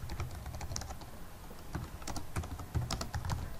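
Fingers tap quickly on a computer keyboard, producing a close, steady patter of light key clicks with small irregular pauses and no talking.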